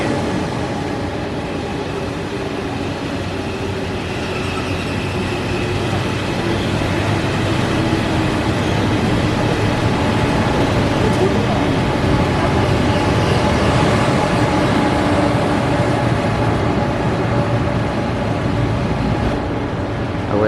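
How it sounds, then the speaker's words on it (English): SRT high-speed train passing in Korea, a steady broadband rumble and rush that holds loud and even throughout, with no voices over it. "Ooh, and over there comes an SRT train."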